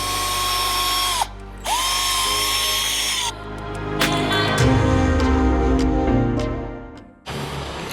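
A handheld polisher buffs the engine casing of a Royal Enfield 650 twin, whirring steadily and loud with brief dips as the pad lifts off and pitch shifts under load, running almost continuously.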